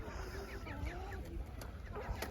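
Several laying hens cluck and chatter in overlapping bursts nearby on a village farm, a busy continuous flock sound with a faint background hum.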